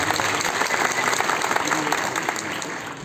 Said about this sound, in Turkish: daha kuvvetli bir alkış hak ettiğini düşünüyorum